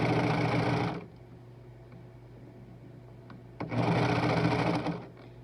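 A serger sewing machine runs under foot-pedal control, stitching knit binding onto a shirt and trimming the fabric edge as it goes. Two fast, steady whirring runs of about a second each are split by a quiet pause, close and clear, with no talking.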